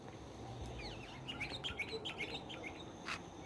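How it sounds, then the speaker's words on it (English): Several small birds chirp and tweet in quick bursts, fairly close, over a steady low background rumble; no one talks. "You can hear the birds"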